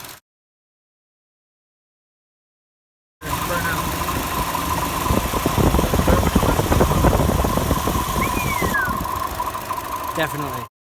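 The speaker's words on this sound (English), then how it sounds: "continue letting the engine warm up" A Chevy Cruze engine with a failed thermostat gasket and coolant leak idles steadily while warming up, close and even, after a brief silent gap at the start, with people talking over it.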